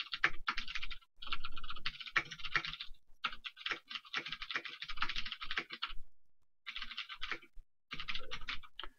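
Rapid typing on a computer keyboard while writing C code, with bursts of close, crisp key clicks broken by short pauses, no talking.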